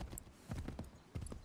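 Horse hooves clip-clopping at a slowed pace through a town street in Assassin's Creed 3, a quick uneven patter of hoof strikes close by with no talk over it.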